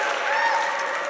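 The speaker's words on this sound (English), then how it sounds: "there's an outbreak of applause" A church summit congregation in Bournemouth breaks into a brief burst of applause, a dense moment of clapping that fills the room and stays even throughout its short length.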